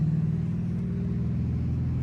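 Steady low engine rumble inside a Pontiac G8 GT driving in the rain, a constant close drone with no talking.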